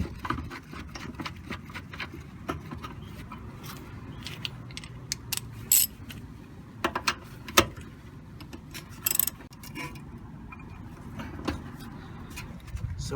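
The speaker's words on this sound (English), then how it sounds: "It's easier to start by putting in the bottom stud, then the top stud, and then tighten up both of them." Ratcheting clicks and metallic clinks while tightening brake caliper studs on a VW T4 van's rear brake, quiet and close, in irregular bursts with occasional sharper taps.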